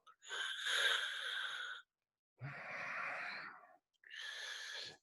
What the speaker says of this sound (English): by breathing in and making a soft ocean sound